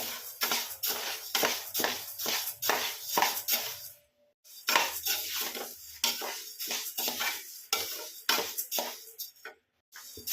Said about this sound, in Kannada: ಹಿಂಗೆ ಸಣ್ಣ ಉರಿ ಇಟ್ಟು ಹುರ್ಕೋತ ಕೂಡ್ಬೇಕ್ರಿ ಇದನ್ನ